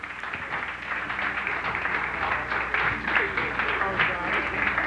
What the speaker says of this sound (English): our 3 bachelors, bachelor number 1, bachelor number 2, and bachelor number 3, deserve a round of applause